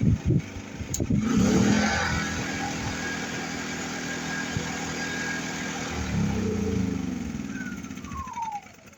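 A WEN 2350i portable inverter generator on its first run idles steadily nearby with a constant droning hum, a brief rattle near the start and a slight shift in tone later.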